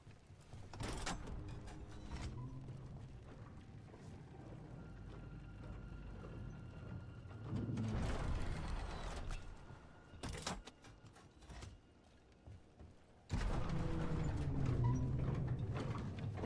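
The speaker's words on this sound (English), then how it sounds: "Rickety elevator." A rickety elevator in a fantasy video game creaks and rumbles while moving, with low mechanical grinding that swells and fades, louder stretches near the middle and end, and no voices over it.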